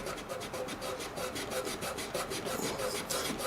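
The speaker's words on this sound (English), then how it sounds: "And then while it's still wet, I'm going to rub it with my finger." A finger rubbing wet color into a wooden table finish, a rapid, rhythmic rasping scrub repeated steadily and close up, with no talking.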